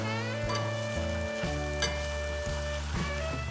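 Ramen noodles simmer in white wine with parsley and ginger, giving a steady soft sizzle and bubbling over a low constant hum, fairly quiet and continuous throughout.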